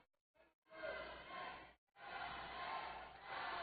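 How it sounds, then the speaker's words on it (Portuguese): A crowd at a boxing match at Payne Arena in Texas chants a fighter's name in rhythmic bursts, with short pauses between the loud surges of voices. "Torcida grita Sanchez, Sanchez, Sanchez."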